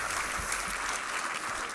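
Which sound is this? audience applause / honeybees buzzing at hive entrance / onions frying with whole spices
audience applause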